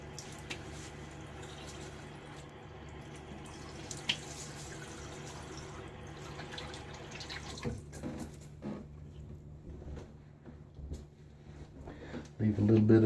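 Tap water runs steadily into a sink for rinsing during a wet shave, a soft continuous splash under a voice, fading near the end before a louder burst.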